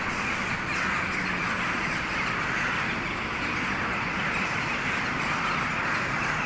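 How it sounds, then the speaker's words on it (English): Ravens cawing in the eerie game Strange Horticulture, heard as steady harsh calls over a dense, constant ambient wash that fills the whole clip. "Listen to those birds"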